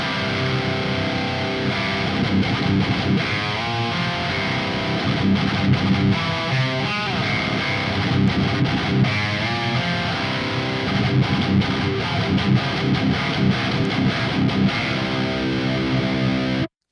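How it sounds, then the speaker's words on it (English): A heavily distorted Moon Guitars Zenith electric guitar with a DiMarzio Super Distortion pickup, tuned to drop C, plays loud, low chugging riffs and sustained chords, with no voices. "this is a Moon Guitars Zenith with a DiMarzio Super Distortion, and it's tuned to drop C"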